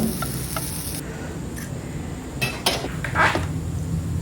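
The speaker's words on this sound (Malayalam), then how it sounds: "അരമുറി നാളികേരം നന്നായി വറുത്തെടുക്കുക അതിലോട്ട് രണ്ട് ചെറിയുള്ളി ഒരു അര ടീസ്പൂണ് പെരുംജീരകം" Half a grated coconut roasts in a pan with shallots and fennel seeds for a cashew nut curry, a soft steady sizzle under a few close metallic spoon scrapes and clinks against the pan.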